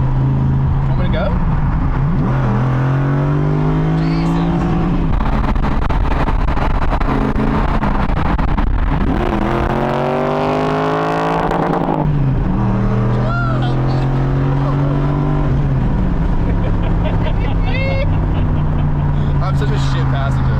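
A BMW E36 drift car accelerates hard, its engine note rising and falling through repeated loud revs close by, continuous and dominant over the whole stretch, with people talking inside the cabin.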